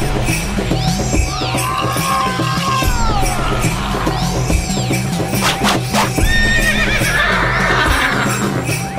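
A horse neighs and whinnies loudly several times, with hoof clip-clop, over a dense devotional folk song about a horse cart race, the whinnies rising above steady drums and music throughout.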